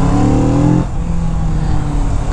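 Stock 2021 Kawasaki Z650 motorcycle with stock exhaust accelerating, a loud close engine note rising in pitch through a gear, then dropping to a steadier drone after the shift.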